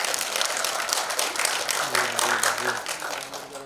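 Crowd applause at a celebrity award event honoring Bharat Ratna Dr. APJ Abdul Kalam, steady clapping throughout with a voice briefly speaking underneath toward the middle before the applause thins.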